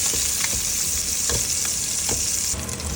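Garlic sautéing in a hot pan for sinigang na bangus, a loud continuous close sizzle with a few soft stirring scrapes, no talk.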